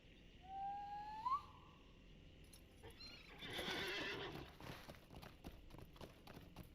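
A horse in The Lord of the Rings Online video game gives one rising whinny early on, followed by rustling and soft clopping movement, with quiet ambience throughout.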